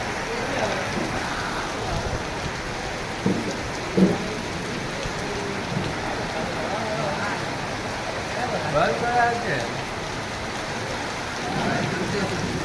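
Rain falls steadily on a surface in a continuous patter, with people talking now and then over it.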